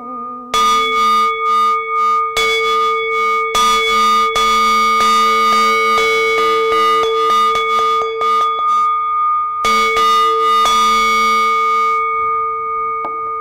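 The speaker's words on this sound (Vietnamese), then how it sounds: "khi chúng ta hô chuông thì chúng ta vừa hô vừa nghe, và chúng ta đánh chuông nó có khác nhau" A Buddhist ritual bell struck repeatedly, loud, bright metallic strikes with long ringing tones that sustain and overlap, each new hit layering over the decaying hum, with no talking.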